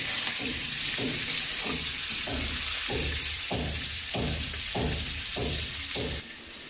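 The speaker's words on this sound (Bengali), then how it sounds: "আলুর দমের মতো আলুগুলো ভাজছি।" Potatoes for Bengali aloo dum fry steadily in a pan, a dense close sizzle with rhythmic bursts of stirring roughly every half second.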